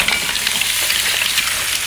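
Garlic sautéing in a pan gives off a steady, close sizzle and crackle of hot oil with faint stirring scrapes, continuous throughout and with no voices.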